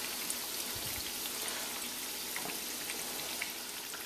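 Plantain slices frying in hot oil for tostones give a steady, close sizzle with occasional crackles and pops, alone without talk.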